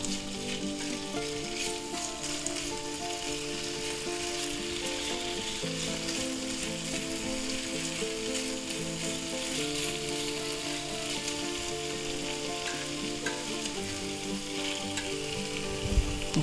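Little smokies sausage strips fry in a hot pan and get stirred around, giving a dense, steady sizzle that runs loud and close throughout, with faint scrapes of stirring underneath.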